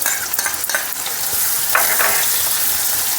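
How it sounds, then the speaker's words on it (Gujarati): Chopped onion and garlic hitting hot oil in a pan for a Gujarati papad curry, making a loud, bright, continuous sizzle with a few stirring scrapes, close and unbroken by speech. "તેલ ગરમ થઈ ગયું છે કાંદા નાખી દઈશું ને લસણ નાખી દઈશું"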